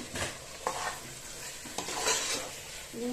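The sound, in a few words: stirring ginger garlic paste into frying green chicken masala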